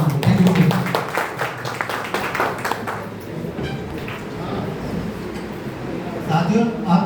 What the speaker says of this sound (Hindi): जोरदार तालियां आप सभी को